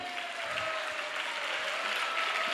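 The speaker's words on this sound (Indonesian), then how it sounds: "Sekali lagi kita berikan tepuk tangan yang meriah untuk para kandidat." Sustained, dense applause from an audience honoring candidates at an interactive dialogue event, a steady wash of many hands clapping with a faint tonal hum underneath and no talk.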